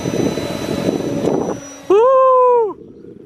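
A radio-controlled model airplane's small engine buzzes up sharply to a high, steady whine, holds for under a second, then cuts off, following a stretch of gusty, windy outdoor noise.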